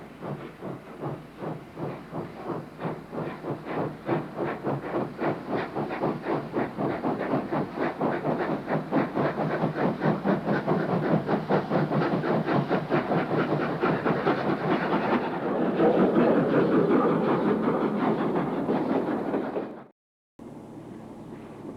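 A steam locomotive works hard up the grade on Tumulla Bank in the mid 1960s, loud rapid chuffing beating steadily under hissing steam for about twenty seconds before cutting off abruptly.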